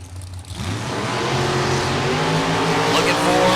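A drag racing car makes a pass, its engine swelling into a loud, rising roar that builds steadily and stays strong to the end.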